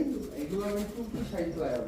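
Soft, low racing pigeon cooing, rolling and repeated, heard close alongside people talking at a pigeon market.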